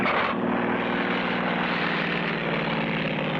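Propeller plane engine in a 1959 cartoon, flying low through high mountains below the clouds; a loud, steady drone holds throughout with no voices.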